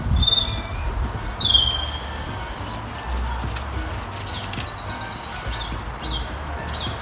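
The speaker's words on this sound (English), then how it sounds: "that's a lot of bird noise" Several birds sing and chirp outdoors, with bright repeated trills and tweets over a low background hum.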